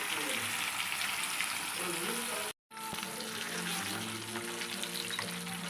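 Fish pieces for fish biryani lightly shallow-frying in oil, a steady dense sizzle and crackle that runs almost continuously, broken once by a brief silent gap, loud and close.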